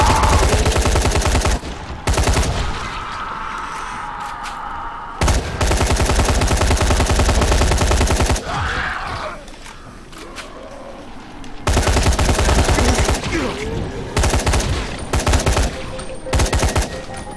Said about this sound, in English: This weapon is way harder to shoot with than the other weapon.